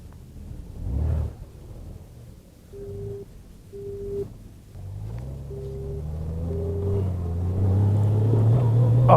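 A 2018 Honda Gold Wing DCT motorcycle pulls away and gathers speed, its engine rumble rising steadily under repeated electronic warning beeps early on.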